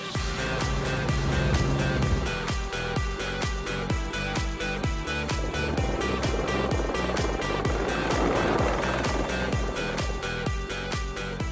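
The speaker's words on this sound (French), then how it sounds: "Et on y va en hélico." A helicopter flies up toward a mountain-top restaurant, its rotor chopping in a fast, steady, loud beat that continues throughout, with engine and wind roar heard alongside.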